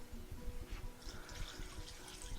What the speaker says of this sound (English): So, Aurora, can you pour in just maybe a tiny bit more?